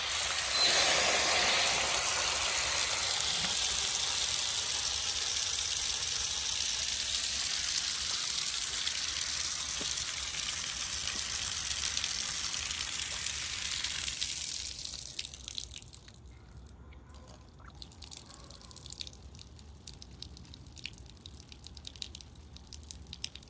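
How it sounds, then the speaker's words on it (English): Water draining from a small one-bathroom house's water lines, a strong steady hiss and rush that fades after about fifteen seconds into faint trickles and drips, with no talking. "And now watch that exciting video of water draining."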